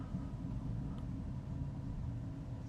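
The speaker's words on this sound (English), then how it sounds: "It's loud thunder." Loud, steady low rumble of thunder rolling continuously throughout, heavy and close with no breaks or voices.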